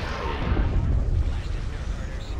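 Bombs go off in a Star Wars: Empire at War battle, a heavy rumbling barrage of deep booms that rolls on continuously at loud, steady intensity.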